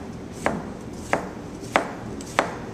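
A knife cuts julienne strips on a cutting board, four crisp, evenly spaced taps against the board over a quiet background, close up and with no talking.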